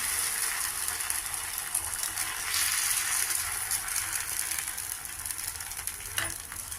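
Wheat rava dosa batter hissing and sizzling on a hot pan over moderate flame, a steady close crackle holding throughout with a brief sharper tick near the end, no voices.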